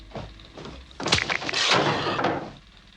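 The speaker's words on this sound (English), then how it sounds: "A slammed steel door" A steel door slams with a sharp, heavy bang followed by a rattling, scraping tail and a second impact, all fairly close and unaccompanied by voices.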